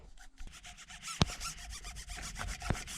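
Glue residue from a removed sticker rubbed off the textured fork of a 2019 KTM 250XC hard enduro motorcycle, giving quiet, rapid, repeated rubbing strokes with a couple of sharp clicks, close and alone.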